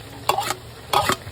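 Two quick scraping stirs of a spoon through ginataang langka in a pan with long chili and onion leaves, each stroke distinct over a low background sizzle.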